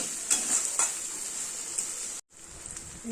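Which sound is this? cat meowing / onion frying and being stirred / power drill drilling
onion frying and being stirred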